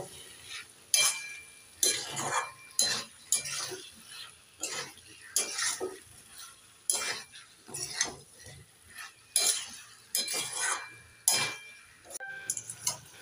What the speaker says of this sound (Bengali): ভেজে রাখা আলু আর এঁচোড় দিয়ে দেব। একটু নেড়ে চেড়ে আবারও 2 মিনিট কষে নেব।